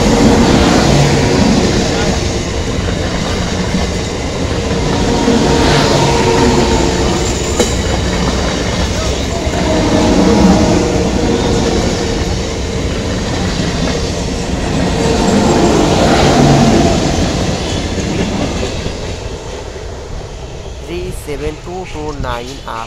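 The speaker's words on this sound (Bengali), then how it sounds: "রেল স্টেশন ব্যান্ডেলে প্রবেশ করছে।" The 37533 Up Naihati–Bandel local train enters Bandel Junction railway station with a loud, continuous rumble and wheel clatter over the rails. It rolls on steadily and close by, while voices come through the noise.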